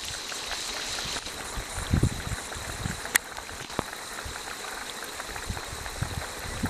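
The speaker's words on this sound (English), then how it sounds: "Water is coming over it all along it." Water seeps and trickles over a leaky concrete weir, a soft continuous flowing hiss with small irregular drips and splashes, quiet and nearby, no talking.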